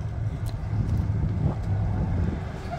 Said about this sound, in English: See a shuttle bus coming.